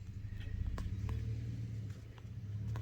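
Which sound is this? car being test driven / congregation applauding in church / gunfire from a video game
car being test driven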